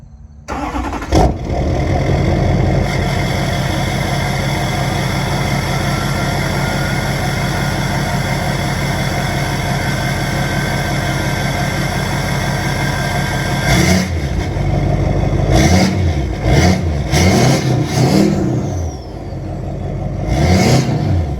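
An extended cab pickup truck cranks and fires up, then idles with a steady loud rumble before several sharp revs near the end.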